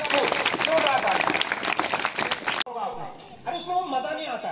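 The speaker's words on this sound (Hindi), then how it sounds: "आप सब इन दोनों के लिए जोरदार ताली, जोरदार ताली" An audience at a quiz competition at a government intermediate college in India claps loudly and densely for a few seconds, then the applause cuts off and someone speaks.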